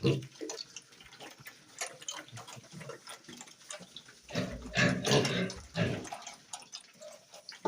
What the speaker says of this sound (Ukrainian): Ще лишилось водички свіженької підлити їм.